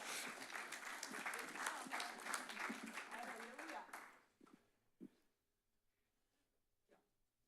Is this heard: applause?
yes